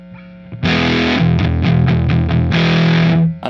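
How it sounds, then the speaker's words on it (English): Guitar played through a distortion pedal on a pedalboard: a loud, saturated chord rings out, followed by several rhythmic chopped stabs and another sustained distorted chord that cuts off at the end. "Or also we could have this distortion on,"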